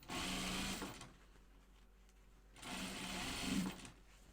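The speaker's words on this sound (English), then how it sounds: "I'm sewing." A sewing machine stitching fabric pieces for a Chicken Boots wallaby, two runs of fast, even, buzzing stitching about a second or more each, separated by a quiet pause, close and clear.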